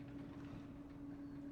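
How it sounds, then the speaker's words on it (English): An elevator lowers in the video game Rust, giving a steady mechanical rumble with a droning hum, even and continuous, no talk. "I'm being lowered in an elevator."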